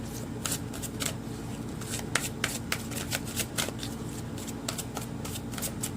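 Tarot cards being shuffled in the hands, a steady run of crisp riffling and flicking bursts with sharp slaps throughout, close and clear with no talking.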